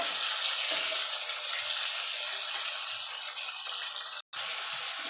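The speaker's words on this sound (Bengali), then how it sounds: "এবার টমেটোটাকে একটু নাড়াচাড়া করে গলিয়ে নেব" A chopped tomato sizzles in a pan while being stirred until it softens, a steady close frying hiss with light scraping and a brief cut near the end, no voices.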